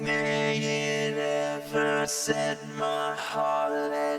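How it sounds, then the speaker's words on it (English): A sung vocal is layered into a thick, synthetic vocoder harmony, several electronic pitched voices moving together as one sustained chordal line. "this vocoder is kind of acting as like a vocal synthesizer"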